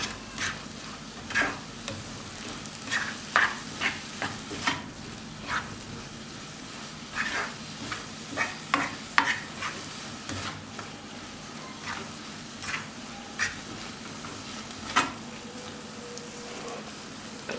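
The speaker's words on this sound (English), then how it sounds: "I'm going to let it cook for about 5 to 10 minutes." Soya chunk vegetable noodles stir-frying in a pan, a steady soft sizzle punctuated by frequent sharp spatters and crackles throughout.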